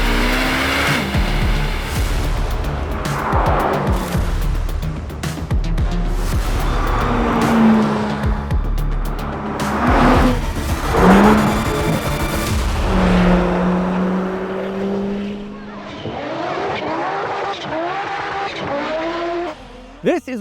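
A Chevrolet C8 Corvette Z06, a mid-engine sports car, drives hard with a loud, sustained engine roar that rises and shifts through gears, with tire squeal and a passing-car sweep toward the end.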